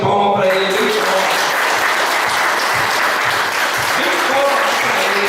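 A church congregation gives a sustained round of applause, dense loud clapping from many hands filling the space throughout, with a voice briefly audible at the very start.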